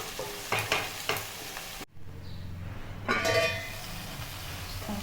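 Onions sauté in a pan for egg masala, giving a steady sizzle with scraping stirs and light clinks of a utensil, a brief dropout midway before the frying noise returns, no talking.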